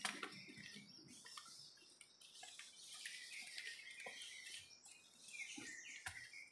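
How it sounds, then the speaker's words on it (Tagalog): Wild birds hidden in outdoor vegetation chirp and tweet in scattered bursts, faint and somewhat distant, with overlapping calls and rustling that continue throughout, no talking. "Kahit isang ibon hindi ko nakita pero ang ingay nila."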